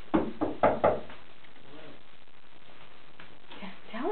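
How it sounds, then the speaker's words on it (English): Four quick knocks on a door in a home on Christmas morning, close and crisp in a fast run, followed by a near-silent pause and a faint voice at the end. "Knock on the door."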